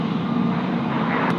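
Finnair jet airliner at Tokyo Haneda airport, a loud, steady engine roar close by that holds at even strength throughout the short stretch.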